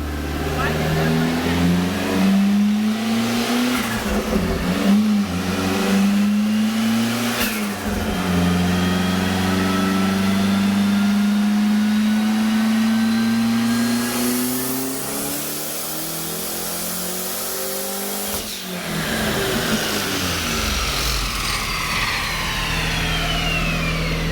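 A boosted sleeper car engine running on E85 revs hard through a power run at 28 pounds of boost, rising and falling in loud sweeping pulls with a brief dip and lift near the end, close and continuous.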